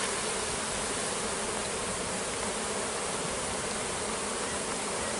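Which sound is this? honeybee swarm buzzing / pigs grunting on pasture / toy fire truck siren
honeybee swarm buzzing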